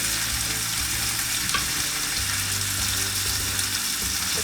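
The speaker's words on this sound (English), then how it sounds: "So it's going to go a little bit loud in here, and I apologize for the noise, but tasty things are happening." Chicken frying in an oiled pan on a stovetop, a dense continuous sizzle and crackle at close range, loud and steady with no talking.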